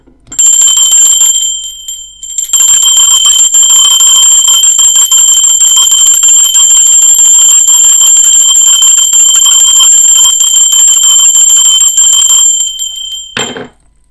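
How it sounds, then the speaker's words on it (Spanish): A bell rings loudly and close in a long, sustained, shimmering peal lasting about thirteen seconds, with a brief dip in the ringing early on before it resumes steadily and then cuts off. "Va, va campana, ser divino."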